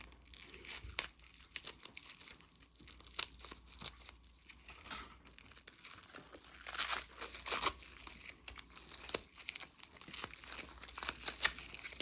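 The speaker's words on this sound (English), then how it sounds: "we're just going to go ahead and open this package" Crinkly plastic crackling and tearing up close as a plastic package is cut open with scissors, irregular rustles and crunches that swell louder toward the end, no voices.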